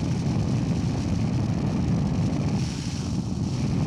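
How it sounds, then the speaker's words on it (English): Steady broadband wind roar buffets a rider's motorcycle helmet with active noise cancelling switched on, a continuous dense rush with low rumble that dips slightly partway through; no voices. "I'm still hearing some wind noise"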